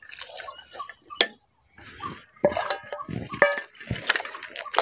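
Chopped eggplant pieces being rinsed in a bowl of water, giving irregular splashing and sloshing close by, with sharp clinks of the bowl or utensils in between.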